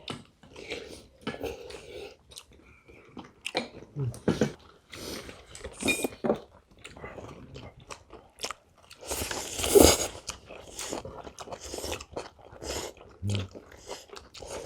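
Someone eats chicken gomtang with japchae close to the mic, making uneven wet chewing, biting and slurping sounds with occasional light clinks of cutlery against dishes, without anyone talking.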